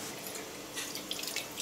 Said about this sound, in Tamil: இதை கொஞ்சமாக தண்ணி விட்டு நம்ம கரைச்சிக்கலாம்.